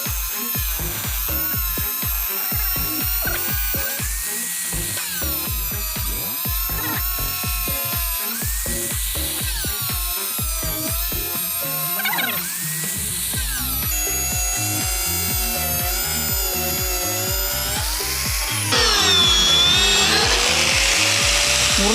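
A power cutter bites into a medicine ball, whining loudly and continuously with shifting pitch as the blade works through the material, close and with no talking for about twenty seconds.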